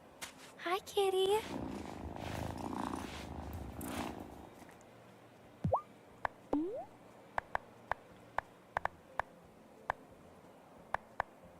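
A cat in the video game Wylde Flowers gives a short meow and then a steady purr, followed by light ticking game sounds, with brief talk early on.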